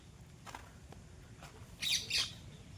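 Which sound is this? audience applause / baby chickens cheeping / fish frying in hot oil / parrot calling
parrot calling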